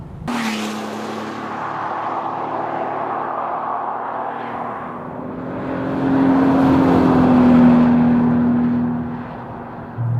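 A 2013 Bentley GT Speed Convertible accelerating on an open road, a steady engine drone that swells louder and higher in pitch midway before easing back, with wind and road roar underneath.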